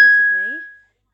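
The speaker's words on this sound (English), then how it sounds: "Sorry if you can hear my phone going off" A short mobile phone notification chime sounds once, loud and close, a bright tone with a quick melodic flourish that fades within a second.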